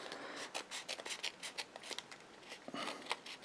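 Scissors snip around the edge of stamped paper, a quiet close series of crisp rhythmic cuts and rustles spaced roughly every fraction of a second, with no talking.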